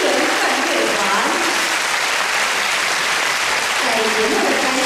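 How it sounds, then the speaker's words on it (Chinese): A concert audience welcomes conductor Qiu Shichang and the Fo Guang Shan Humanistic Buddhist Music Orchestra at their 2012 touring concert with warm, dense applause that holds throughout, while a voice briefly surfaces near the end. "现在让我们以热烈的掌声欢迎指挥邱世昌老师所率领的佛光山人间音缘梵乐团"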